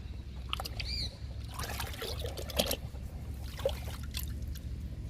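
Liquid is poured onto plants, including a small jasmine plant, in a few faint trickling and splashing bursts with brief pauses, fairly quiet and close.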